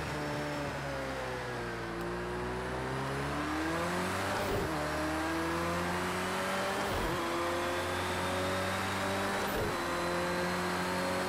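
Race car engines in the Project CARS 2 racing game drone loudly and steadily, rising in pitch through the gears with sharp drops at each upshift, a tire squeal here and there, and no voices throughout.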